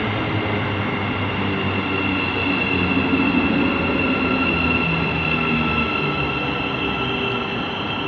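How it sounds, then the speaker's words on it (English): A Thameslink Class 700 electric train draws into Hendon station on the Midland Main Line, a steady loud rumble of wheels and traction with a faint high whine, continuous and close, with no talking. "about to approach now is the 1450 Thameslink service from Sutton to St Albans City, calling at all stations"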